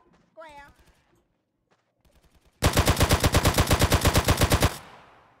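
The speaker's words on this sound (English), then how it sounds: "Get some suppressing fire in there." Rapid automatic gunfire in GTA San Andreas Definitive Edition, a loud, even burst of about twenty shots lasting two seconds, preceded by brief speech and quiet clicks.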